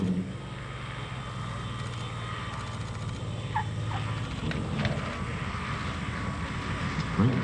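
A P-51 Mustang warbird performs a flying display at the New York International Air Show, its propeller engine droning steadily at a moderate distance throughout, with no talking over it.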